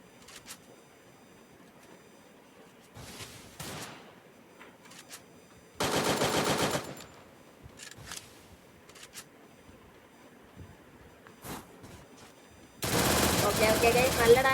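Gunfire in the mobile video game Free Fire Max, in several separate bursts of rapid automatic shots, some short and some sustained, between quieter stretches.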